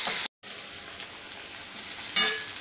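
Ginger-garlic paste with onion sizzles in a pan, a steady hiss that cuts off for a moment, resumes, then flares louder near the end.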